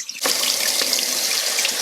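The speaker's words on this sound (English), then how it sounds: "You'll wash it until the water runs clear to remove all the starch from the rice" Tap water runs steadily into a kitchen sink while rice is rinsed. The flow starts abruptly after a brief quiet moment, then stays as a close, loud, continuous splashing rush.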